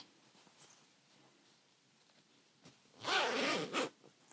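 A quick zipper pull on a handmade lined fabric bag rasps loudly, sliding briefly then snagging, after a few quiet rustles.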